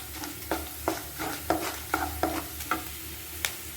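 Onions tossed into a pan with cashews for vegetable rava kichadi fry under a soft sizzle, punctuated by about nine brisk, evenly spaced spatula strokes scraping the pan; no voices.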